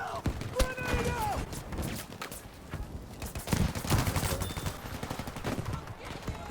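Rapid automatic gunfire in Battlefield 5 combat rolls in continuous bursts, loud and close, with a voice talking over the shooting.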